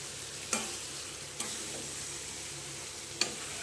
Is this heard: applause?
no